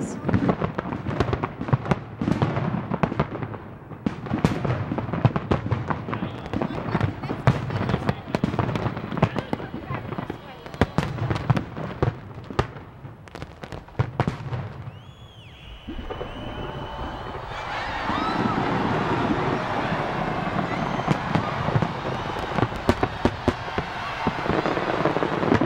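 Fireworks display at the Nagano 1998 Olympics closing ceremony, a dense run of booming bursts and crackles that later settles into a continuous roar of crowd and explosions.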